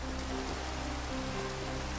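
Rain in a video game, a dense, steady hiss of rainfall on surfaces that holds at an even level for a couple of seconds, with no talking.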